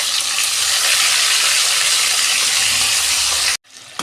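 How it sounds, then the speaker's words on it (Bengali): Shankar fish, a stingray, frying in hot oil: a loud, steady broadband sizzle and hiss that runs without a break, then cuts off abruptly near the end to a brief, quieter tail. "এই যে মাছগুলো ভেজে নিচ্ছি"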